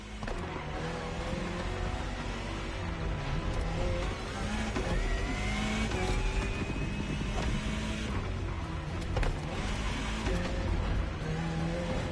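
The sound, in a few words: Jaguar CX-75 concept car driving in video game The Crew Motorfest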